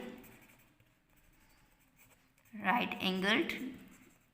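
A pen scratches softly on paper during a geometry lesson, faint and continuous at first, before a voice starts talking over it.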